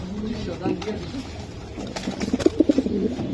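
A male racing pigeon coos softly, with a run of pulsing coos near the end, mixed with background voices and rustling.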